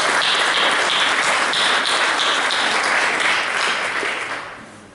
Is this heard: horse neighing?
no